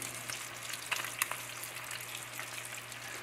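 Crappie fillets frying in hot oil give off a steady, soft crackling sizzle with scattered sharp pops, fairly faint and continuous, with no voices over it.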